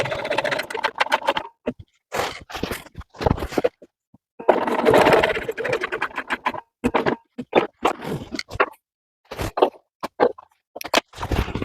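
A sewing machine stitching with 12 weight pearl cotton thread, running in short bursts of rapid mechanical whirring separated by silent pauses, close and moderately loud, with no talking.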